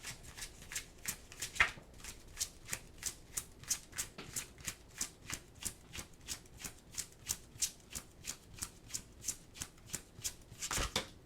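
Oracle cards being shuffled in a steady riffling rhythm, roughly two dozen soft, even flicks close to the microphone, with a couple of louder slaps partway through and at the end; nobody talks.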